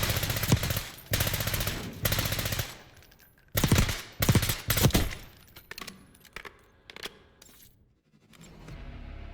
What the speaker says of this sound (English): let me go to the firing range, see if my guns are making any damage